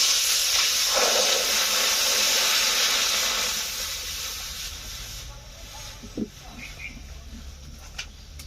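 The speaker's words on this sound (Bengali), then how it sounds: "কড়াই প্রচন্ড গরম ছিল, আর জল দেওয়ার সাথে সাথে কেমন ভাবে ছ্যাদ করে উঠলো" Water hitting a very hot wok on a stove, a loud sustained steam hiss that fades over several seconds, followed by a few faint clinks and small knocks.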